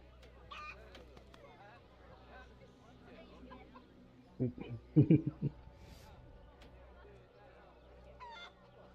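Chicken clucking in the Assassin's Creed Liberation video game, a short burst of several loud clucks in the middle of a quiet in-game background, with game ambience around it.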